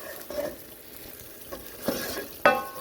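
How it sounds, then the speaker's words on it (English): Ogbono frying in palm oil in a pan with a soft background sizzle, punctuated by a few scraping stirs of a utensil against the pot. "Your ogbono is frying."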